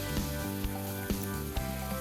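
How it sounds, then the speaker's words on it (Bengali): Eggplant pieces frying in oil in a covered pan for a Bengali shukto, a continuous close sizzle with a low hum and a few faint knocks throughout. "বেগুনগুলো একটু ঢাকা চাপা দিয়ে আমি ভেজে তুলে নিচ্ছি"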